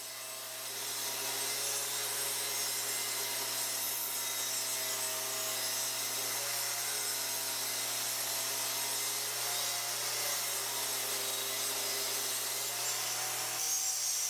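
Table saw cutting a 10-degree bevel in wood for a playing card shelf, a steady loud whine with continuous cutting noise throughout, the blade tone shifting slightly near the end.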